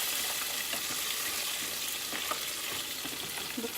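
Chicken wings deep frying in hot grease, a dense, steady hiss and bubbling crackle that holds evenly throughout, close but fairly soft, with a few faint clinks.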